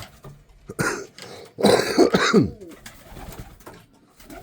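Pigeon chicks in a freshly cleaned pigeon loft give short close coos and throaty grunting calls between quieter stretches.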